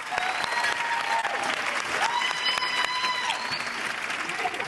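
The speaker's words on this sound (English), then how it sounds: "Give them applause." Steady, dense applause from a large crowd at a high school commencement ceremony, a continuous wash of clapping heard from a distance, with a few whistles and faint voices mixed in.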